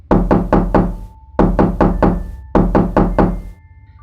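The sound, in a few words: knocking on a door at midnight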